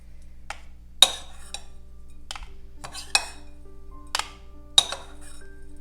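A metal spoon scoops Santa Maria seasoning into a glass jar, giving several sharp, close clinks spaced a second or so apart over soft scraping between them.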